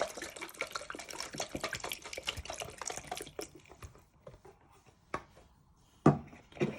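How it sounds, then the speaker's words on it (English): Rice vinegar is poured into a teriyaki sauce in a home kitchen, giving a steady liquid trickle for a few seconds. After it stops, a few sharp drips and clinks follow. "Now you want to start adding some rice vinegar."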